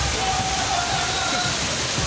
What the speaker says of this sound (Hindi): पानी का इतना तेज प्रवाह